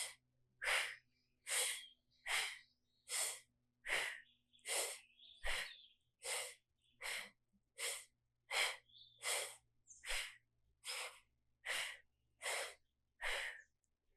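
Deep, forceful breaths held in a yoga core-bracing exercise, about fifteen even rhythmic huffs close to the microphone with brief pauses between, over a faint low hum.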